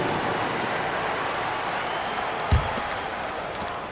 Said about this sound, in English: Fans, please give a big round of applause for your dance team.